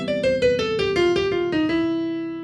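Jazz piano runs down a scale in a steady stepwise line of about ten clear, close notes, each a bright struck attack with ringing overtones, the last note left to sustain and fade alone.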